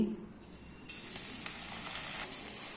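Chicken pieces coated in whole flattened rice frying in white oil in a kadai, a continuous bright crackling sizzle that swells after a quieter start, with faint scattered pops and no speech.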